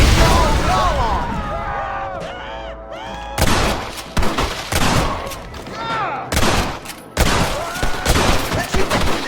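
Gunfire rattles through a Western shootout in Red Dead Redemption, with rapid bursts and booming shots layered over music and shouting voices, loud and continuous with brief pauses between volleys.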